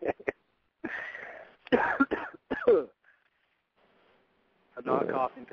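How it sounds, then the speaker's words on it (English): Several bursts of coughing and throat clearing from one person, close and loud, separated by short silences, with a brief voice near the end. "I'm not coughing because I'm getting high."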